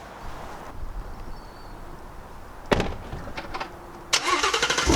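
A Ford Mustang GT350 engine cranks and catches around the middle, followed by a louder burst as it fires up and roars near the listener.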